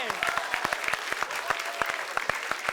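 Bursts of audience applause with sharp individual claps standing out over a dense clapping wash, fairly close and steady throughout.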